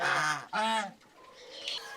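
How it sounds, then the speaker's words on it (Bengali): A male goose on a farm on a winter morning gives two loud honking calls in quick succession, followed by quieter, softer calls. "এই রাজহাঁসটা ছেলে রাজহাঁস।"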